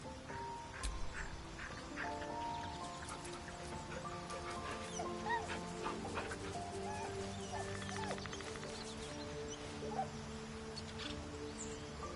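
A dog whimpers and gives soft yips in the Baldur's Gate 3 video game, faint and intermittent under steady game music and ambience.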